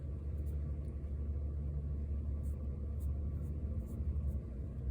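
Trucks passing outside on a noisy block where work is under way, a steady low rumble heard from indoors, with faint high clicks on top.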